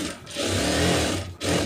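Sewing machine stitching a garment's lining to its outer fabric, a steady close whirring run with a brief pause near the start and another just before the end.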